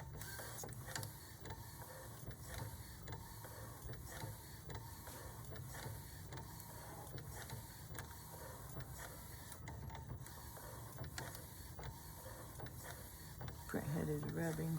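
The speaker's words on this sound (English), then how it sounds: "It's printing!" XP15000 DTF printer printing, its print head carriage shuttling back and forth in a regular mechanical rhythm with clicks and a steady hum, fairly quiet and close, with a brief tonal beep near the end.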